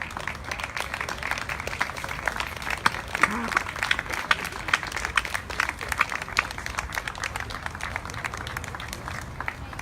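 A crowd at a Baltimore Clayworks ceremony gives honorees a round of applause, scattered clapping running steadily throughout at moderate distance with voices murmuring underneath.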